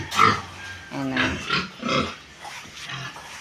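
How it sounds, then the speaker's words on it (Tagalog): Pet pig grunting in repeated short snorts at close range, spaced through the moment, with a person speaking over some of the grunts. "At ito na nga po yung aming alagang baboy."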